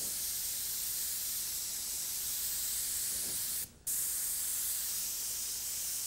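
An airbrush sprays paint in a cone with a steady, close hiss that breaks off for a moment partway through and then resumes.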